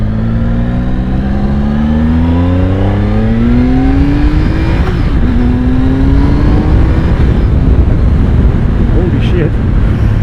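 A 2016 Triumph Speed Triple S motorcycle accelerating hard, its engine note climbing steadily through the revs, a brief dip at a gear change, then pulling up again, loud and close with wind rush underneath.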